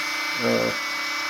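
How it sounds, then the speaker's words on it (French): Cooling fans of a Gotway Monster V3 electric unicycle spin up loudly, a steady high whir that swells briefly with a low tonal hum in the middle before settling back to a constant rush. "dès que les ventilateurs se mettent en route, on a l'impression que c'est un avion qui décolle"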